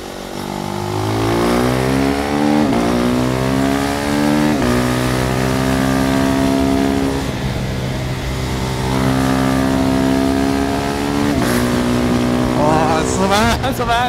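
A KTM Duke 390 motorcycle on Dunlop Sportsmart TT tyres ridden hard, its single-cylinder engine loud and close, climbing through rising revs with gear changes and falling back, ending in a few sharp bursts; faint talk may sit underneath.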